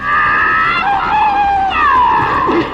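A loud, sustained high-pitched scream in the style of a Bruce Lee martial arts movie cry, wavering across two drawn-out breaths with no other sounds.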